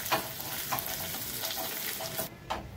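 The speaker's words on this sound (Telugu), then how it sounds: "ఇప్పుడు కరివేపాకు యాడ్ చేసి జస్ట్ ఒక 10 సెకండ్స్ ఇలాగా ఫ్రై చేసుకోండి." Curry leaves crackle and sizzle loudly in hot oil, with stirring scrapes repeating roughly every half second, while making chutney.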